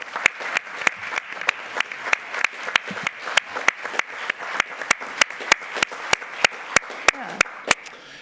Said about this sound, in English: We'll give you all a round of applause for being here,